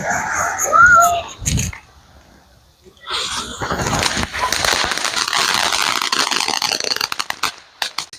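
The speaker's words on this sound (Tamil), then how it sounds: "இந்த ஃப்ளவர் பாட்ஸே கடைசியாக இந்த மாதிரி வெடிக்கும்" Flower pot fireworks burst and crackle at a Diwali celebration in the USA, a loud sustained spray of crackling that runs for several seconds after a brief sharp pop, with voices heard near the start.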